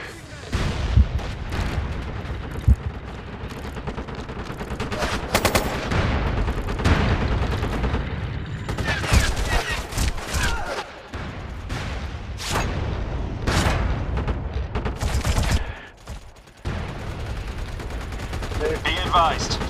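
Battlefield gunfire and mortar blasts from the shooter game MAG crackle in dense bursts of rifle and machine-gun fire punctuated by heavy booms, loud and continuous, with radio-style voices cutting in between.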